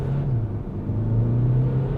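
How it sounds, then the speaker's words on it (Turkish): A Hyundai Elantra 1.6 CRDI diesel pulls hard at full throttle, a steady, droning engine hum with a low rumble heard from inside the car. "Dip gaz yaptım"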